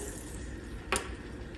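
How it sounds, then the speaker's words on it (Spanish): Water is poured into a cooking pot while soup is being made. It gives a faint, steady rushing stream with one brief, brighter splash partway through. "Ya vamos a agregar agua."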